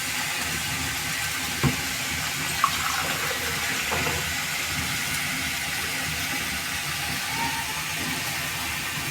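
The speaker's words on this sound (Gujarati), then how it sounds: "આપણે એને થોડુંક પાણી રેડીને ઢાંકી દઈશું" Water pours into a pan of spiced tandalja greens, a soft, steady hissing sizzle with a few small clicks and knocks, fairly faint and free of talk.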